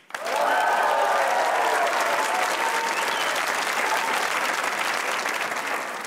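A studio audience at a Pakistani comedy talk show breaks into loud, sustained applause that fills the room and stays steady throughout.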